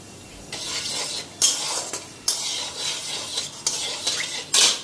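Dried red chillies and panch phoron sizzling in hot oil, with a steady crackling hiss broken by several sharp scraping and stirring strokes of a metal spoon against the pan, close by and without talk.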